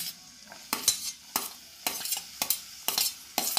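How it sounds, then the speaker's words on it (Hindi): Onion frying in hot oil and ghee with a green cardamom pod for homemade chicken soup: a steady close sizzle broken by loud, regular spoon scrapes and clanks against the pan about every half second. "तेल हमारा गरम हो गया घी हमारा गरम हो गया है इसमें एक हरी इलायची दिए ये हमने प्याज दिया है"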